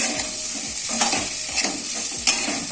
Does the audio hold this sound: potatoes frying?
yes